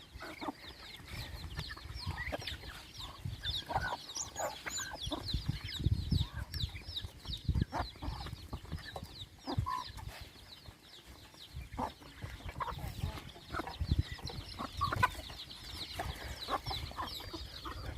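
Several chickens cluck and murmur nearby in a steady, busy chorus, with occasional louder squawks and some rustling.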